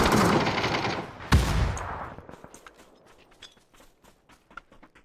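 A loud burst of rapid gunfire with a sharp blast in the video game PUBG Battlegrounds, then scattered fainter shots and clicks trailing off.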